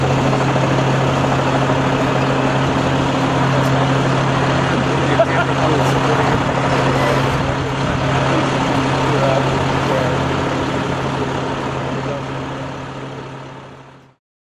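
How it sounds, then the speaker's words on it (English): A helicopter hovers overhead as a steady, loud droning rumble with a constant low hum, continuing throughout before cutting off at the end, while people talk beneath it. "We got a helicopter hovering above."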